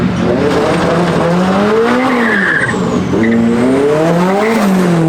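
A 515 hp rear-wheel-drive Honda Civic does a burnout. Its engine roars steadily, loud and close, while the tires squeal and skid with wavering pitch for the whole stretch. No voices are heard.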